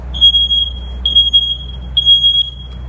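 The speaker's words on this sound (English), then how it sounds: "smoke detector's going off." An apartment smoke detector beeps three times at about one-second intervals, each chirp a loud, piercing high-pitched tone standing alone over a low background hum.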